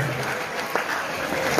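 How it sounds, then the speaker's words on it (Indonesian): A school assembly audience at MAN 10 Jakarta breaks into brief, lively clapping with a few sharper claps standing out, while a voice carries faintly over it. "Tepuk tangan dulu bagi semuanya."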